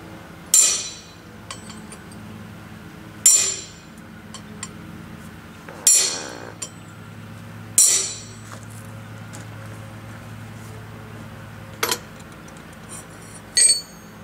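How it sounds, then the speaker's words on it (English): A chisel is struck against steel stock for blacksmith tongs in several sharp, ringing metallic hammer blows spaced a couple of seconds apart, each with a brief decaying ring, plus a few lighter taps. "Now I'll take a chisel and mark that center where the two bits meet up."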